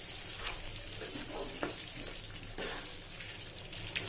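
Spinach chicken sizzles in a pan on lowered heat while being stirred, a steady frying hiss with occasional scraping clicks of the spoon, no one talking.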